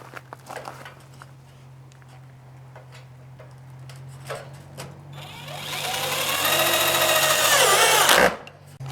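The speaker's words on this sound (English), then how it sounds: "I got my hex bit, and I've got my screws that are colored accordingly, so we'll be able to fasten them." A power drill with a hex bit drives colored screws while building an RV porch cover: faint clicks and knocks, then a loud sustained whirring run of a few seconds that rises and cuts off.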